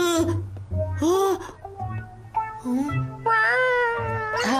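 Cartoon cat meowing several times in quick succession, clear and close, with rising and falling cries over a steady low musical hum and bursts of other voices between the calls.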